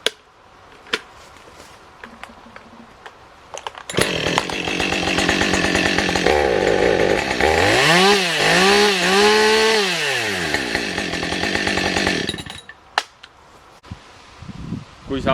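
A chainsaw cuts down a mature spruce tree, revving loudly and steadily for about eight seconds with rising and falling pitch as the chain bites into the trunk, with quieter sounds before and after.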